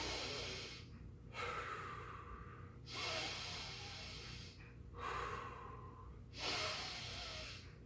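Slow, deep breaths during a yoga exercise, three or four long inhales and exhales in a steady rhythm, soft and close with no talk.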